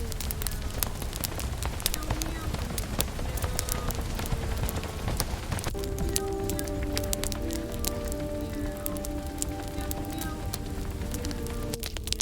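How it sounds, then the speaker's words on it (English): Heavy rain falling at night, a steady dense patter on surfaces that fills the whole stretch at an even, fairly loud level, with a tonal background sound entering partway through. "The rain sounds heavy tonight."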